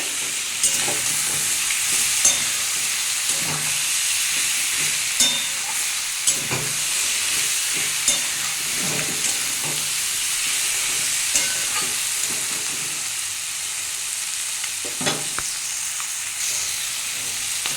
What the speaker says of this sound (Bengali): এটা একটু ভালো করে কষিয়ে নেবো